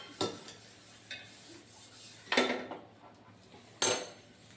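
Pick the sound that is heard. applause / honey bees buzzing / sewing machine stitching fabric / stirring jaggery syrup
stirring jaggery syrup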